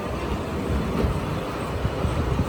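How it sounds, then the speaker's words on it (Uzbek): A train pulls into a station in Japan, a steady low rumble of wheels and rolling stock filling the scene at moderate, constant loudness. "Poyezdimiz keldi, hozir chiqamiz."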